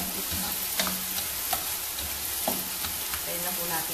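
Mixed seafood fried rice with chicken breast sizzles steadily in a hot pan while a utensil stirs and scrapes through it in repeated strokes, close and fairly loud, with no talking.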